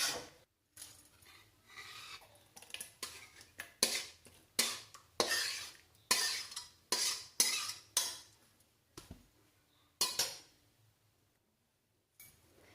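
A spoon scrapes and clinks against a pan, stirring chopped coriander into a kuche fish curry, in a series of repeated close strokes separated by short pauses, with no one speaking.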